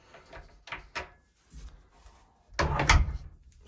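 The lock on a wooden DIY sauna door is worked and latched, producing a series of close clicks and knocks followed by a heavier clunk as it shuts.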